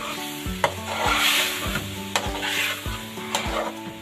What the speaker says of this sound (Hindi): अब इसके साथ मैं इसके अंदर जो हरी मिर्चें मैंने 8 हरी मिर्चें पीस के रखी हैं वो भी डाल दूँ।